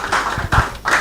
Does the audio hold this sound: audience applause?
yes